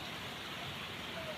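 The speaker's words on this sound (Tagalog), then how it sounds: "Walang tigil ang ulan." Steady rain falls without pause under a dark overcast sky, a continuous broadband hiss with no breaks, fairly soft and even throughout.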